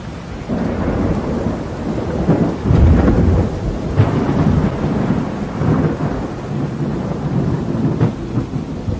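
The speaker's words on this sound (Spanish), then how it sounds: "pude apreciar grandes tormentas rojizas en ese extraño firmamento oscuro" A loud thunderstorm: deep rolling thunder rumbles over steady heavy rain, with a stronger crack of thunder partway through.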